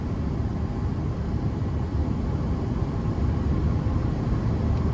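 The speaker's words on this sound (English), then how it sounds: "the AC vents are pretty loud just because it's at full blast" Air conditioning vents in a 1998 Chevrolet Silverado 1500 extended cab truck roar at full blast, a loud, steady, broadband whoosh with low rumble that runs unbroken throughout.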